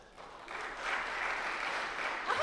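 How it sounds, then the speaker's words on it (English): An audience applauds during a talk, a dense, sustained round of clapping that swells after a quiet start and holds steady to the end, with no voices over it. "I'll have to remember that applause point."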